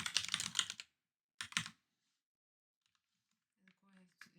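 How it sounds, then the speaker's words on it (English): Bursts of typing on a computer keyboard with separate split halves, dense clattering keystrokes in two short close runs separated by quiet, with faint background sounds near the end. "I think it's so hard to type with separate keyboard together"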